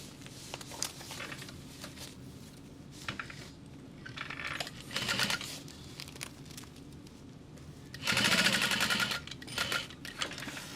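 A sewing machine tacks a seam on a Riva Mini backpack, with short stop-start bursts of stitching that swell loudest near the end, mixed with fabric handling and small clicks; no talking.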